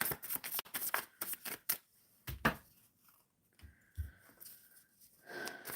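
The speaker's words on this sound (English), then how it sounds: "Shuffling for DeReal" Tarot cards being shuffled by hand in quick, dense riffling bursts, followed by a few scattered soft card taps and a faint tone after a pause; no talking.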